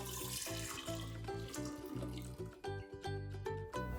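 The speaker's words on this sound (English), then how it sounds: "Just pour it into the jar." High-proof wine poured from a bottle into a jar makes a steady gurgling, glugging stream with rhythmic bubbling pulses, close and fairly loud, with no speech.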